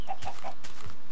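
Minecraft chickens cluck in the game, several quick short clucks in a row, loud and close with nothing else over them.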